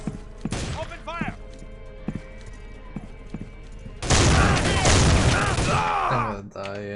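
Gunfire in the shooter game Soldier of Fortune II: scattered sharp shots, then a loud sustained burst of rapid fire with crashing impacts, mixed with shouting voices and game effects.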